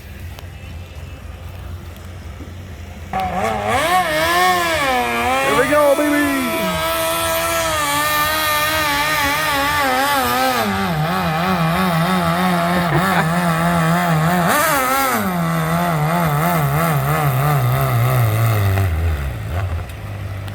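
A powerful tractor-pull engine roars and revs loudly at close range, its pitch climbing then sliding down as it strains under load, with a brief shout over it.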